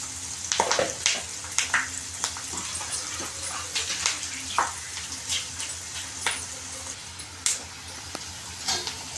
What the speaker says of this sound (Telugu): మనం బాగా మిక్స్ అయ్యేలాగా వేగనిద్దాము ఎర్రగడ్డలు ఎర్రగయ్యేంత వరకు